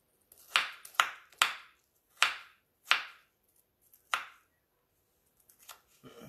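Knife chopping ingredients for sugar-free avocado strawberry ice cream on a cutting board, about six sharp, close chops at an uneven pace with short pauses, followed by a few softer taps.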